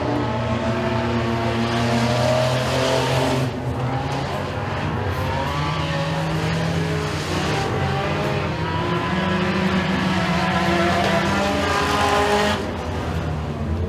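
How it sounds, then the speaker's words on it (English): Race cars in a heat at Eriez Speedway roar around the track in a steady, dense engine drone, with pitch shifting as cars pass and a loud surge near the end. "Cannon Van Hoosier already in turn 4 here, gonna take the checkers"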